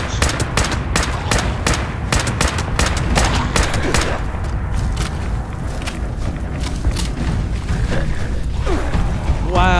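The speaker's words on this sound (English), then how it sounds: "I hear a bunch of explosions." Fallout 76 combat during a nuke strike at Greenbrier: a rapid, loud string of gunshots and sharp blasts at the start, giving way to dense clattering fire, thuds and mechanical rumble throughout.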